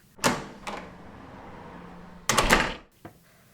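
A door opening with a sharp click, a low rumble of movement, then a louder rattling thud and a final soft knock, close by.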